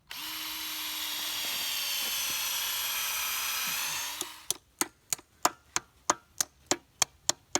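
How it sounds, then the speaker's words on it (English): A drill bores a tap hole into a maple tree in one steady, high whine lasting about four seconds, then stops, followed by a run of sharp, evenly spaced knocks. "Okay, here's the drill."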